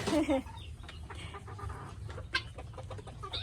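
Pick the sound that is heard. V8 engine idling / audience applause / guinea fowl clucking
guinea fowl clucking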